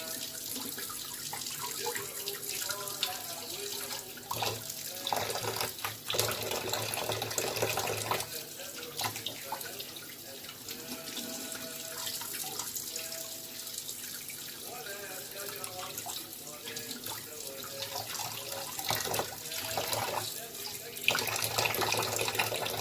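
Tap water runs in a thin, gentle stream over mullet fish roe being rinsed in a kitchen sink, a steady close splashing hiss lasting throughout with small changes as the roe is handled.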